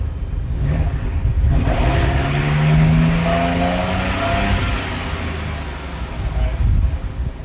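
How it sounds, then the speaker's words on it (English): The engine of a 2023 Ford Bronco Badlands fitted with an AWE exhaust, heard in a home garage, revs up and falls back in a deep rising and falling drone, loud and close, with a second rev near the end. "go ahead and rev it up a little bit"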